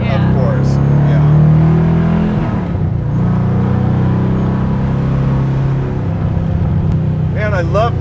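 A naturally aspirated LSX V8 in a 1973 Chevrolet Camaro pro-touring build runs with a loud, steady, deep rumble. Its pitch swells and dips slightly as it idles and revs, and the engine sound fills the whole stretch without pause.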